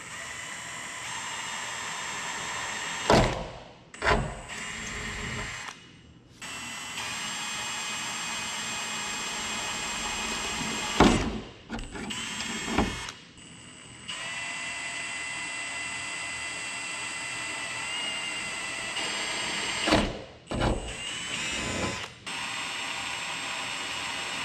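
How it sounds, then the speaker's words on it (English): A power drill bores holes through the cab roof of a pickup truck to fit cab lights, sounding as a sustained high whine that stops and restarts in several bursts with brief quiet gaps between them. "There's nothing for it but to start drilling."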